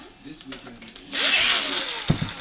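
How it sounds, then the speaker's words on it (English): A power drill, running in reverse, whirs up to speed with a steady high-pitched buzz, close by, following a few quiet clicks and handling sounds. "put my drill in reverse."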